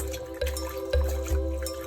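Salted cabbage for kimchi is rinsed in water, with soft splashes and sloshing thuds of the leaves being moved through it, three distinct pulses close by.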